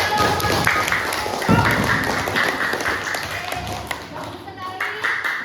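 Students in a school class applaud group 1 after its presentation, a dense, steady clapping that runs for several seconds with voices talking over it.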